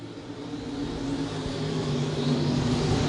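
Late model race cars accelerate together on a restart at I-35 Speedway, a distant, moderately faint roar of engines building steadily and slightly louder over three seconds, with no talk.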